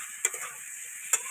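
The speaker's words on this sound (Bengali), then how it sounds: "পালং শাকটা ঢেলে দিলাম।" Spinach poured into a hot pan with vegetarian spices gives a steady soft sizzle, with two sharp crackling bursts where the leaves hit the oil; there is no talk.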